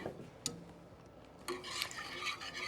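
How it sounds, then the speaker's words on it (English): A spoon stirs a roux-based seafood sauce made with homemade seafood stock in a pan, giving soft scraping and rubbing strokes with a brief clink, fairly quiet, with no talk. "So we'll give that a stir."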